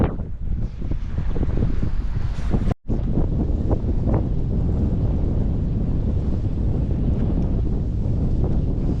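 Strong wind on a sailing boat in the Whitsundays buffets the microphone in a steady, loud low roar, cutting out for a split second before gusting on without pause.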